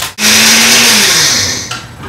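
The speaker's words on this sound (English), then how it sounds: "Take our little blender, because I don't have a food processor." A small kitchen blender grinds pecans into flour, a loud steady whirring motor that runs continuously with a slight dip and pitch shift partway through, no talking over it.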